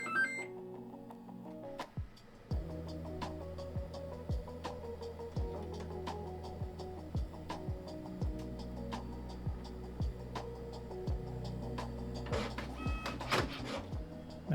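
A 3D printer running while printing acoustic panel brackets, with a steady motor hum and rapid rhythmic ticks and stepper whines, higher-pitched movement chirps near the end, close and alone.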